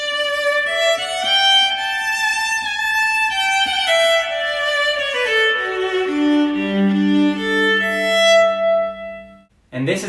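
An electric violin plugged into an amp plays a melody of bowed, sustained notes, fuller and louder than unplugged, settling into a long low tone before cutting off near the end.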